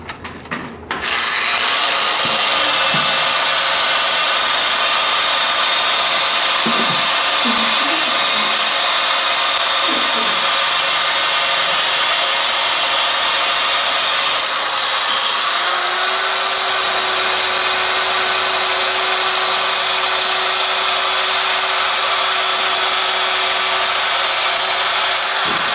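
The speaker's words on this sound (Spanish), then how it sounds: "Bandas de lija igual en la misma máquina." A sanding belt machine polishes stainless steel, a loud continuous abrasive whine and grinding that holds steady, shifting slightly in pitch midway through.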